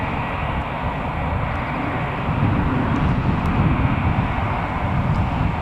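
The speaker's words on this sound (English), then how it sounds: "I can hear another plane." A KLM airliner flying near Newcastle Airport, a broad, steady roar of engine and rushing air that swells slightly partway through, loud and continuous.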